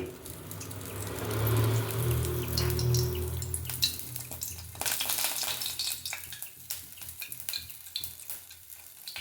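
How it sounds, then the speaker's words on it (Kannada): Oil heats in a pan for a South Indian tempering, first a steady sizzle with a low hum, then a stretch of clattering, crackling bursts as stirring and spattering take over, fairly close and without talk. "ಇವಾಗ ಸ್ವಲ್ಪ ಎಣ್ಣೆನ ಹಾಕ್ಕೊಳ್ಳೋಣ ಅದಕ್ಕೆ ಒಗ್ಗರಣೆಗೆ"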